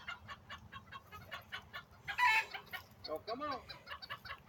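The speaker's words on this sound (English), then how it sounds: "It is kind of difficult to herd chickens." Chickens being herded cluck and murmur nearby in a busy, continuous chatter, with a few louder squawks rising above; a person speaks briefly among them.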